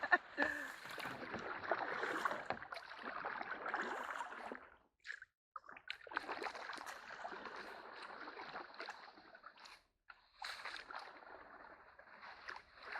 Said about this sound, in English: Oh, I should be paddling on the other side.